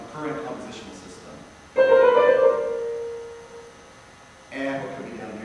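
A composer's short musical motif spelling out the name George, a few tones starting with a bright sustained note that fades, followed by another entry, heard alone and close.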